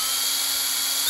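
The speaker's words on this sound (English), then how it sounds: "I'm just gonna start drilling holes and connecting them" A power drill bores holes through a small metal wood stove, a steady close, loud high-pitched grinding whine that holds without a break from start to finish.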